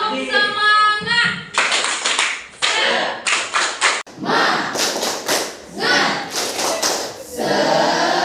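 A group performs a rhythmic clapping routine called tepuk semangat, with crisp patterned bursts of hand claps broken by short pauses and voices chanting along between the claps.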